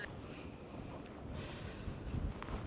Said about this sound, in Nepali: हावा चलेर सिरिरी जाडो भएछ